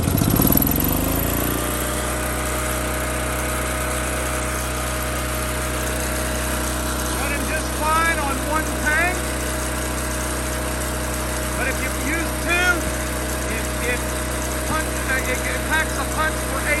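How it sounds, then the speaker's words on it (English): A Winco HPS12000HEB tri-fuel generator on natural gas cranks and catches with a loud burst. It then settles into a steady, droning engine hum. Faint voices and small squeaks are audible under it. "Now what I'm gonna do, I'm just gonna go ahead and start it here."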